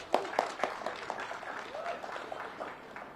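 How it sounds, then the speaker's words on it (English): Audience applause for Mayor Bowser at the opening of a senior housing building in Ward 5, District of Columbia: scattered hand claps from a modest crowd, a few sharp claps standing out early before settling into a steady, moderate patter. "Let's give her a round of applause, please."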